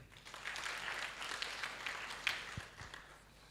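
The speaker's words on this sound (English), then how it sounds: "I think you deserve an extra hand clap." An audience at a statistics bureau event applauds a speaker from UN Women, a fairly quiet wash of clapping from a room of people that swells briefly and tapers off.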